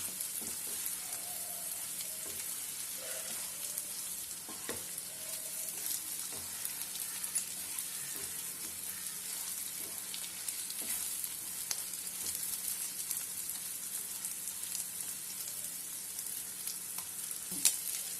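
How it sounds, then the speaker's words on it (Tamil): Prawns roasting in ghee with curry leaves added fry in a pan with a steady, even crackling sizzle, faint stirring touches coming through, all close and continuous with no voices. "இப்போ இதில் 4 கருவேப்பிலை போட்டுக்கிறேன்."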